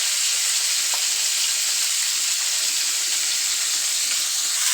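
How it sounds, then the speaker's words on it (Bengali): Meat frying in a pan, a loud, dense, steady sizzle heard close up and unbroken throughout, with no talk. "এদিকে হচ্ছে মাংস দিয়ে ভাজা হচ্ছে"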